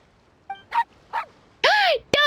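A small dog in Genshin Impact gives a few short yips and barks, then two longer whining barks, close and clear against a quiet background.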